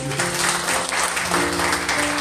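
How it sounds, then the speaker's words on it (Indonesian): Congregation applauding at a church thanksgiving service, a steady wash of clapping that fills the whole stretch, with sustained organ or keyboard tones underneath. "Tepuk tangan buat Tuhan"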